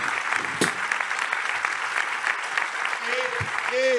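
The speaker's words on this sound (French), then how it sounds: "on peut applaudir et remercier chaleureusement Gaspard" Audience applause for film director Gaspar Noé at the close of his masterclass: steady, dense clapping from a crowd throughout, with a voice briefly speaking over the end.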